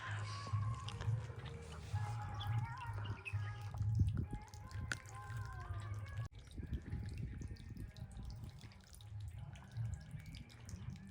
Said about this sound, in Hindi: यहाँ पे मैं पीछे की साइड कपड़े धो रही हूँ